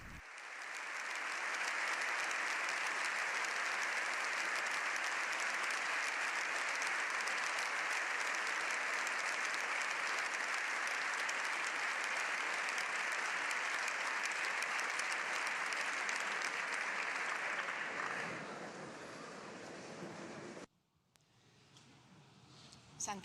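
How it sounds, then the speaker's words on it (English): Sustained applause from a full chamber of the Spanish Parliament for the Pope, a loud, steady wash of clapping that holds for about eighteen seconds before fading and breaking off. "The Holy Father is receiving a sustained applause from the Spanish Parliament."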